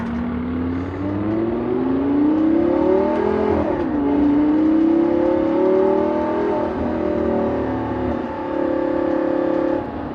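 Modified Lamborghini Gallardo engine revving and accelerating, with a loud, close, droning note that climbs, dips and climbs again over about ten seconds.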